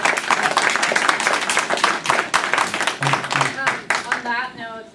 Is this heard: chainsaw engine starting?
no